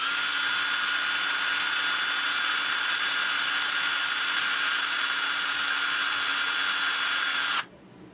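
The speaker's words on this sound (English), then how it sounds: "it looks like the drill is still running" A Ryobi cordless drill runs on a 4Ah battery with a steady, loud high-pitched whine holding constant for over seven seconds, then cuts off abruptly near the end.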